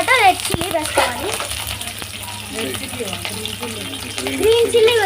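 Red chillies crackle loudly in hot oil for street-style gobi manchurian, giving a dense, steady frying hiss throughout while indistinct voices talk nearby.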